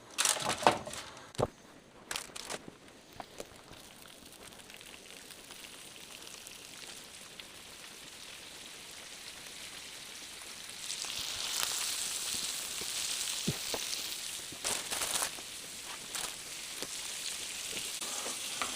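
Aberdeen Angus beef pepper sausages frying in Kerrygold butter: a few scattered clatters at first, then a steady, fairly loud hiss and crackle of sizzling fat that builds and holds to the end, with no talking.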